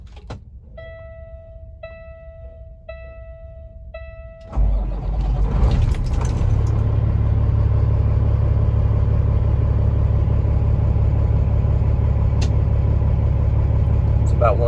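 A 2016 Peterbilt 389 glider truck with a Cat diesel engine cranks and fires up after a series of dash chimes, then settles into a loud, steady, deep idle.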